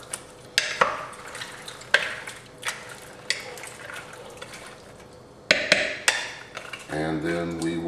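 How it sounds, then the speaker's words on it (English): Creole red beans for a Louisiana-style crockpot recipe get stirred with a spoon, giving a series of wet knocks and scrapes against the pot at irregular intervals, followed by a low hum toward the end. "And we're going to give this a good stir."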